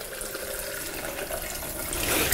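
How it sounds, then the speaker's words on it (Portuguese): Water poured from a one-litre measure into a blender jar for a homemade hair treatment, a steady close splashing stream that grows fuller near the end, with no talking. "Olha, aqui 1 litro de água. Então vou colocar aqui a água."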